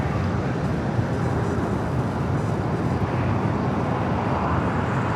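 A jet airliner, flight 809 bound for Honolulu, roars steadily at Los Angeles International Airport, a broad, constant rumble with no breaks, heard from a fair distance outdoors.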